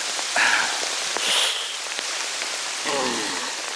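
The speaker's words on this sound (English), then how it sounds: "We had about a half an hour torrential downpour." Heavy torrential rain pours down in a swamp, a steady dense hiss of drops striking surfaces close by, with a few louder splashy bursts rising and falling through it.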